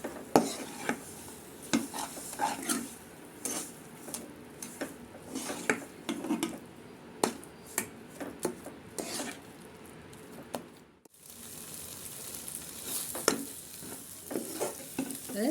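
A spoon or spatula repeatedly scrapes and stirs thick ulundhu kali, a black gram sweet, in a pan, with rhythmic rasping strokes over a low sizzle and a brief pause midway.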